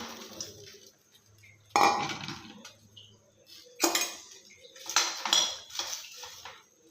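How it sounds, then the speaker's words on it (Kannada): Cut okra tipped into a hot kadai and stirred for North Karnataka-style okra palya, with a spoon scraping and clinking against the metal pan in several loud bursts amid quieter rattling. "ಇವಾಗ ಕಡಾಯಿ ಕಾದಿದೆ ಕಟ್ ಮಾಡಿಟ್ಕೊಂಡಿರೋ ಬೆಂಡೆಕಾಯಿ ಹಾಕೊಳ್ಳೋಣ"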